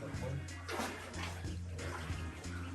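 Warm water in a hot spring cave pool at Goldstrike Canyon near Las Vegas sloshes and splashes with quiet, irregular surges, echoing softly, while people talk faintly in the background.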